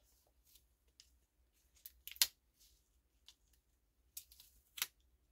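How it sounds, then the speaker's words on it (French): A small piece of tape is peeled off a stencil while foam product is applied, giving faint scattered crinkles and two sharper ripping bursts, close and quiet with no talk. "J'enlève le petit scotch."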